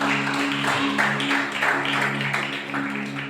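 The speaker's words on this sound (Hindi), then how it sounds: "इस बात पे तालियां होनी चाहिए।" Steady applause from a church congregation fills the room, with a low electrical hum running underneath and no voices over it.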